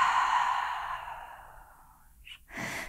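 A slow, steady exhale during a yoga breathing routine, a soft breathy rush that fades over about two seconds before a faint new breath begins, close and alone without speech.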